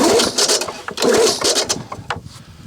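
A Lawnboy 19 lawn mower fails to start: loud, repeated rough mechanical pulls and clatter in uneven bursts, with short gaps and no engine catching.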